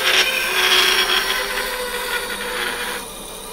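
Juniper firewood being cut away on a lathe during woodturning to remove a rotten patch, a steady rasping, scraping tool-on-wood sound held for a few seconds and then easing off.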